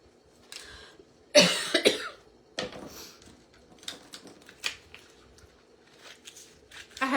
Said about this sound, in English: I hate when I get on live and I start coughing